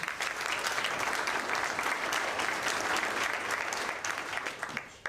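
An audience at a school-district Teacher of the Year celebration claps for the event's sponsors: a full, dense round of applause sustained for about five seconds before tapering slightly.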